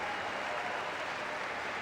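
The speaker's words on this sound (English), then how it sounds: "Let us send him off with a round of applause" Steady, dense applause from a crowd, continuous clapping at an even level throughout with no voices standing out.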